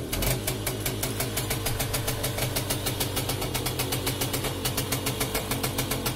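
Romet 2375 moped engine catching and settling into a steady idle with rapid, even firing pulses, loud and close throughout with no talking.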